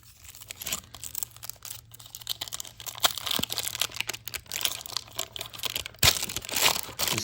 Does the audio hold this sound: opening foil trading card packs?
yes